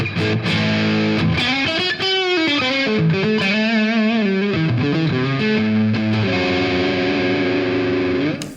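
A PRS CE24 electric guitar with the middle-position humbucker plays a loud, distorted, driving riff with sustained chords and bending notes, ringing out alone.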